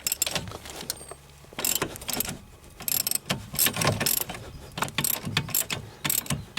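Ratchet loosening the two nuts on the hub carrier during front road spring replacement on a Vectra B, heard as repeated bursts of rapid clicking with short pauses between, close and fairly loud, without any talk.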